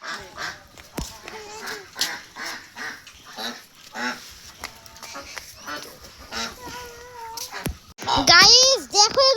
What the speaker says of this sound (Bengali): গাইস দেখো এগুলো কত বড় হাঁস